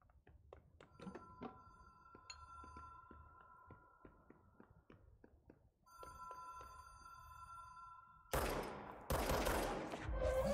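A telephone rings inside a video game with a steady, repeating electronic tone over quiet background clatter, then heavy bursts of noise break in near the end.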